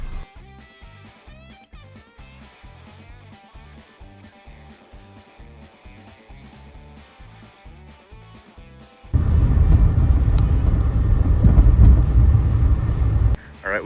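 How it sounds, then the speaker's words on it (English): A car cabin on the drive to a kayak launch in South Florida, with a rhythmic low thumping at first, then a loud, steady engine and road rumble for the final stretch. "And yeah, let's get driving."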